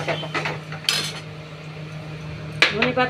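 A spoon scrapes and clinks around a pan of rohu fish curry as ground coriander leaf paste is stirred in, a few quick metallic strokes over a low steady hum.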